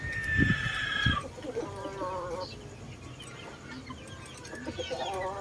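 Chickens cluck and call near a Filipino keeper, a few drawn-out rooster-like calls and scattered clucks rising and fading over a low farmyard background, with no clear talking.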